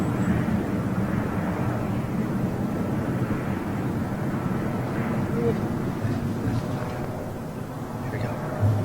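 Aircraft passing at Gatwick Airport, a broad, steady low roar with wind buffeting the microphone, continuous and fairly distant throughout.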